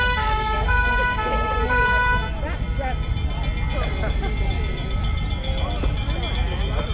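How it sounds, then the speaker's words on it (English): Fire engines pass at a steam rally with sirens wailing loudly and close. Engine rumble and crowd noise sit beneath the sirens, and people talk throughout. "Meanwhile, here comes the fire engines."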